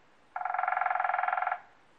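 A frog croak used as a transition sound in the Prana Breath app, one rapid pulsing trill of about twenty even beats lasting just over a second, clear and alone against silence.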